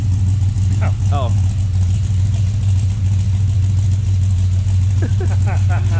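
Deep, even idle rumble from the carbureted engine of a widebody 1970 Dodge Charger, close and steady throughout, with people chatting over it at the start and end.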